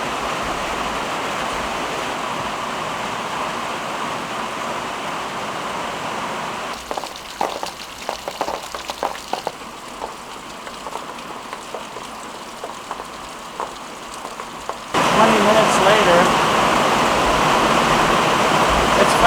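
Heavy rain pours onto a pond in a dense, even hiss, thins into scattered drops and patters for a stretch, then swells back to a strong downpour.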